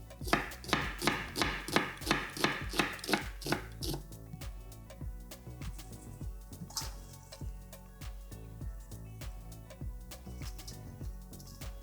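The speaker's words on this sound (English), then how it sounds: "I'm going to slice my red onion." A knife slices a red onion on a cutting board, opening with a quick, loud, evenly paced run of chops, then continuing as softer, irregular cuts and taps; no one speaks.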